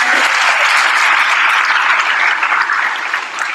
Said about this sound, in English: another round of applause for you kids, all of you winners.